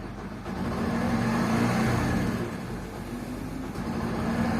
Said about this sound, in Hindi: इसका भी आप इंजन का आवाज सुनो।